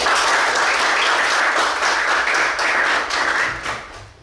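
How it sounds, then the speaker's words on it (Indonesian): Loud, dense classroom applause fills the clip, with many hands clapping steadily close by and tapering slightly near the end. "sekarang tepuk tangan dulu"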